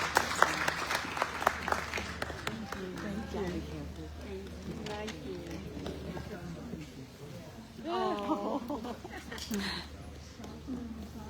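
A church audience at a peace gathering claps and cheers in a burst of applause that gradually thins out as people start talking over it.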